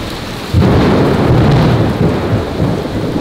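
A thunderstorm rolls in with a deep, loud rumble of thunder that starts abruptly and sustains, heavy rain hissing steadily underneath.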